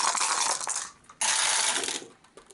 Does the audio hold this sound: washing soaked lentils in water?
no